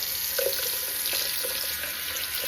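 Running tap water streams steadily over a razor as shaving gel is rinsed off, a constant close splashing hiss with small gurgles and clinks, no voices.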